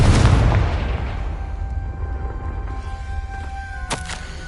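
The Confringo fire spell is cast in Hogwarts Legacy: a loud, booming blast hits at once, then fades into a long rumbling tail with thin ringing tones. A second, sharper crack sounds near the end.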